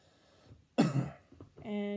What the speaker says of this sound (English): Can you cough for me?